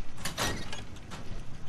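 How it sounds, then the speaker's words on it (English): A door slides open in the video game Fallout 4, giving a brief mechanical whoosh and clunk with a faint rattle after it. "Except we opened a useless door"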